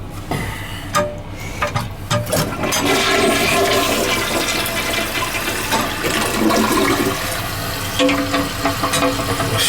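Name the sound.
toilet flushing and tank refilling, Mansfield toilet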